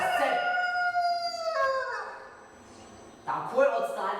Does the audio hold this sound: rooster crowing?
yes